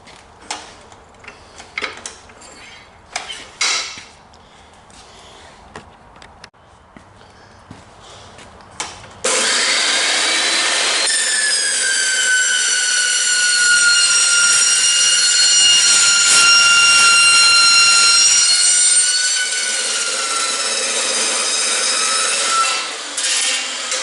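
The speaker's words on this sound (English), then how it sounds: "this is one of the best investments you'll make, a good cold cut saw" A cold cut saw slices through steel tube. A few scattered clunks come first, then a loud, sustained, high ringing cut that runs steadily for about ten seconds before the blade winds down, all close by.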